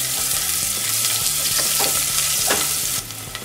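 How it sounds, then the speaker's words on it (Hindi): Green chillies and garlic frying in a pan, a dense continuous sizzle with rhythmic stirring scrapes throughout, close and loud, softening slightly at the end, no voices. "लहसुन और मिर्ची को हम 1 मिनट के लिए भून लेंगे।"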